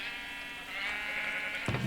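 Minecraft sheep in a wool farm bleat in a long, wavering cry, followed by a sharp second bleat; the calls are close and clear over a faint background hum.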